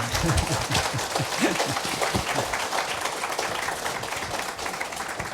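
Dense, sustained applause from a lecture audience in a library, steady many-handed clapping filling the room from start to finish at a fairly loud level.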